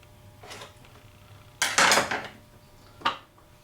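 The filter comes out of a Stihl BG86 leaf blower with a few sharp plastic clacks and rattles, a loud cluster in the middle and a single knock near the end, over a quiet background.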